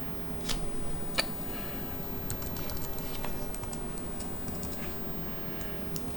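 Fingers tap on a new laptop-style keyboard, a quick irregular patter of soft clicks, close and fairly quiet, with no talking.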